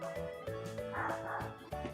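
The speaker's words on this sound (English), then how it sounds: "If you hear my doggy barking in the background" A dog barks and yips indoors in an apartment building, in a run of sharp, close barks with a few whimpering sounds between them.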